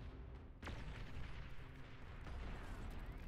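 Sniper fire in the strategy game Beyond All Reason: one sharp loud crack rings out early, then a second fainter shot follows amid a dense, rumbling battle din.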